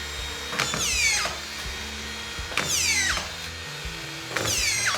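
Pam Fast autofeed screw system driving collated screws, three quick whirring bursts about two seconds apart, each a rising motor whine with a ratcheting feed, up close with no talking.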